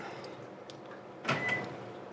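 A retracting power step on a Toyota Tacoma gives a short mechanical whir and clunk, fairly close, in otherwise quiet surroundings.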